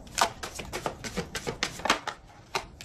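Tarot cards are shuffled by hand close up, a quick run of crisp riffling flicks and slaps in an uneven rhythm, with no talking over them.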